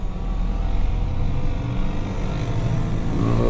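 A heavy 6.4 Powerstroke truck engine idles with a low, steady rumble nearby, holding an even drone throughout.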